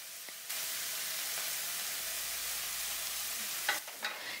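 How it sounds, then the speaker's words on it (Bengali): Rice stir-fried in a pan with black pepper, peri peri spice, tomato sauce, soy sauce and salt for restaurant-style mixed fried rice gives a steady, close hiss of sizzling, with a few louder scrapes and clatters near the end. "এখন গোলমরিচ গুঁড়ো, পেরি পেরি মশলা, টমেটো সস, সয়া সস আর স্বাদমতো নুন দিয়ে আরো কিছুক্ষণ মিশিয়ে নেব।"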